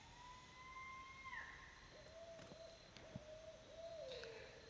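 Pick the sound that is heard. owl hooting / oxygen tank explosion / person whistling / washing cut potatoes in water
owl hooting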